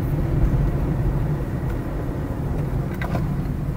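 A car rolls along a wet road in the rain, its low engine and tire rumble steady and close, with a brief braking sound near the end and no talk.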